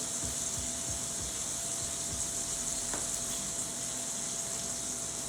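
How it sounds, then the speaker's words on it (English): Chicken searing in a hot pan for creamy balsamic chicken, a steady, quiet sizzle and crackle running continuously throughout with a few faint clicks. "Let's check out our chicken. It's sounding pretty good."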